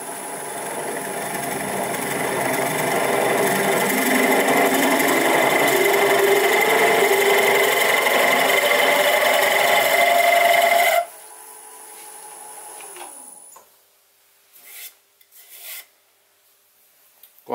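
A texturing tool takes a pull cut on a wood lathe turning at 700 revs, a loud sustained rasping hum with a rising whine that stops abruptly, followed by quieter, intermittent scraping and knocks.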